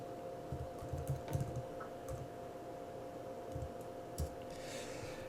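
Soft keyboard typing as an Excel formula is entered into a spreadsheet cell, scattered quiet key clicks in short bursts over a low steady hum, fairly faint and close, with no voices.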